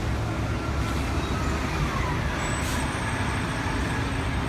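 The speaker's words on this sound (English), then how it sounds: "the traffic that we're hearing right now" Street traffic on Allen Street outside the Tenement Museum in New York City makes a steady, loud, continuous roar of passing vehicles with no pauses and no voices.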